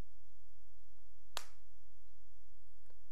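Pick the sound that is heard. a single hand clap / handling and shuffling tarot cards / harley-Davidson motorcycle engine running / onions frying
a single hand clap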